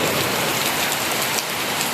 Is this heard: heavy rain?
yes